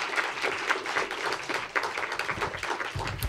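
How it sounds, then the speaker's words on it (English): An audience applauds a keynote speaker at a philanthropy summit, a steady, moderately faint patter of many hands clapping across the room, with no talking. "Let's give him a round of applause."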